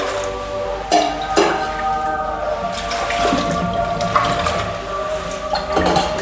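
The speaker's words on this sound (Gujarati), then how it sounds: "થોડુંક વધારે પાણી નાખી દો ને બટેકા ડૂબી જાય" Water poured into a pot of potatoes with salt during outdoor riverside cooking; a steady close splashing flow with a few clunks of the vessel, no talking.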